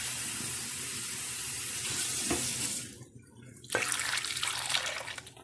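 A glass of water being poured into a mixture of butter, salt and egg in a kitchen, a loud continuous rushing pour that briefly drops off and then resumes strongly, no talk.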